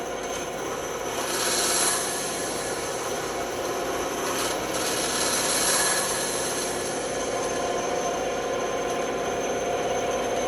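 A band saw cuts through wood with a steady, loud, continuous buzzing rasp that holds evenly throughout, swelling slightly at moments, with no talking.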